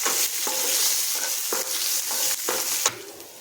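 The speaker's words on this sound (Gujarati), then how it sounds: "બધું જ આપણે સારી રીતે સાતળી લઈશું।" Green chilies sautéing in a pan, a loud steady sizzle punctuated by regular scraping strokes of a spoon stirring, with no voices.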